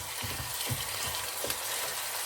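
Chicken mince frying in a pan for palak qeema, a soft steady sizzle with a few stirring scrapes, faint and close with no talking.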